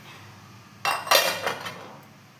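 Ingredients being mixed in a bowl for a homemade snack, heard as a few close clinks and scrapes of a utensil against the bowl in quick succession after a quiet start.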